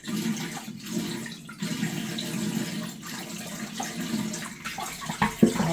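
Water poured into a Betta fish tank over a bowl that spreads the flow: a steady, fairly quiet splashing rush for several seconds, with brief dips and a few sharper sloshes near the end.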